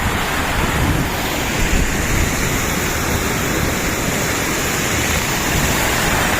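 Hadapan Ella waterfall in the Sinharaja rainforest sends up a loud, steady rushing roar that stays even from start to finish, with no voices over it.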